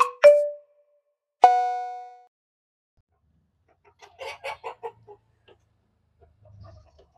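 Young hens just beginning to lay cluck in a coop, a short quick run of clucks following two ringing tonal strikes, with quiet stretches around them.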